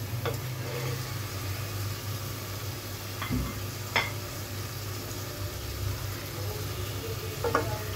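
Pre-fried fish go into a pan with a little water, setting off a quiet, steady sizzle with a few soft knocks and scrapes against the pan.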